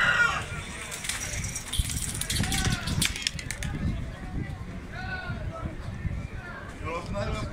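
Dolapçı pigeons released from a pigeon keeper's flock take off in bursts of flapping wings, mixed with nearby bird calls and people talking throughout.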